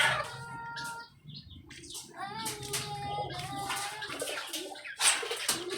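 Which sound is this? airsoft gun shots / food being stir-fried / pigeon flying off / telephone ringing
pigeon flying off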